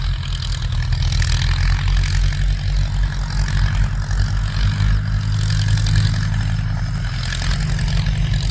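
A Ford 6610 four-cylinder tractor ploughs a sugarcane field, its engine giving a loud, steady low drone that holds nearly constant power and stays close throughout.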